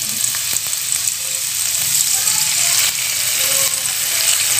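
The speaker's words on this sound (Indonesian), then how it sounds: "Kita tumis sampai bau kunyitnya hilang, bau bumbunya." A bruised, tied lemongrass and turmeric spice paste with a little added water sizzles steadily in a pan, a loud continuous hiss up close with faint scraping of stirring underneath.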